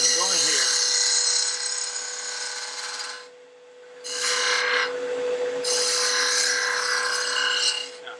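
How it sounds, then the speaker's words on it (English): A gouge cuts a wooden bottle stopper spinning on a lathe, giving a loud, continuous scraping rasp with a steady motor hum beneath, broken by a brief pause before cutting resumes. "You see that gouge? You see that bevel? I'm rubbing that bevel."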